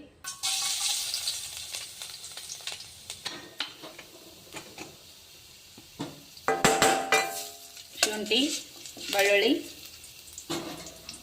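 Ginger and garlic sizzle in hot oil in a pan, a soft frying hiss broken by scattered clinks and scrapes of a utensil stirring against the pan, with a voice briefly talking.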